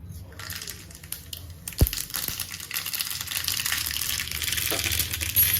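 Mustard seeds crackle and spit in hot oil for a coconut kadi, a dense, steady frying hiss that builds and swells toward the end, with a few sharper pops near the start.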